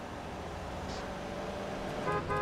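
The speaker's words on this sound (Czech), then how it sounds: "Horn." Car horn honking in GTA San Andreas, a short toot near the end rising over a steady hum of engine and traffic noise, with no talk.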